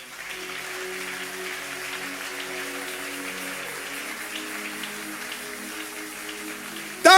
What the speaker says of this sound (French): Applaudissons l'Éternel des âmes.